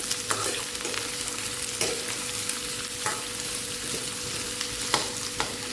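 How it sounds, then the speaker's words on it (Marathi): Sliced onions frying in oil for a bitter gourd stir-fry, a constant crackling sizzle with regular spatula scrapes and taps against the pan, near and steady, no one speaking. "कांदा छान गुलाबी होईपर्यंत भाजून घ्यायचा"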